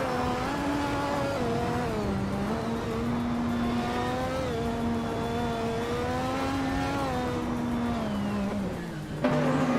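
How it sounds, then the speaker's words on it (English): Williams FW12 race car in a racing video game, a steady high whining engine note rising and falling through gear changes mid-pack, with faint other cars around it. "Red Panda Manatee 4 is racing a Williams FW12, starting from 14th"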